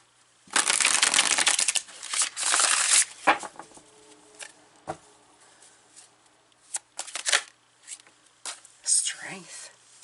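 Tarot cards shuffled and pulled from the deck: a long, close riffling shuffle opens, followed by scattered snaps, slides and taps as cards are drawn, with a soft whispering voice at times.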